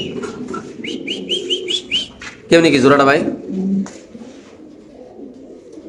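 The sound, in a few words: pigeons cooing, a pair of Maltese pigeons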